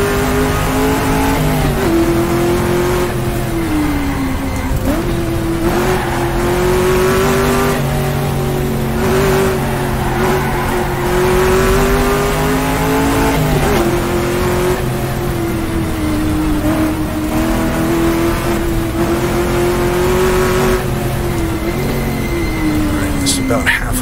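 A race car in the GTR2 sim climbs a hill on the 1966 Targa Florio road course, its engine droning steadily with rising and falling revs through the gears, loud and continuous while someone talks over it.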